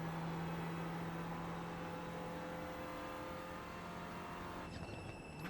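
Race car engines in iRacing around Mosport, with a Renault Clio in the field: a loud, steady engine drone at high revs, shifting in pitch near the end as another car passes, and no voices.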